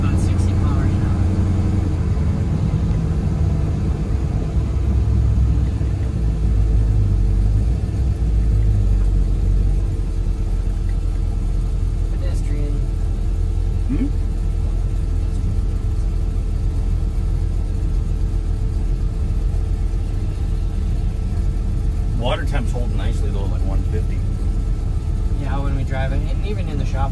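A car driving at about 60 km/h gives a steady, loud low rumble of engine and road noise that runs the whole time, with voices talking over it now and then.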